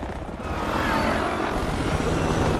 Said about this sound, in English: A helicopter hovering above a chase scene.